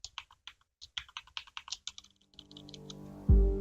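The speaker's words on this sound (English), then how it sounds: "So I can type every other character except at?" Quick, uneven clicks of a computer keyboard, typed up close, break off near the end, followed by a low hum and a sudden thump.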